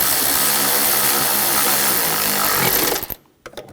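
A power tool tightens bolts on the high-pressure fuel pump of a 2007-2013 BMW X5 with the 3.0L inline-six, a loud, steady whir lasting about three seconds before cutting off abruptly, followed by a few faint clicks.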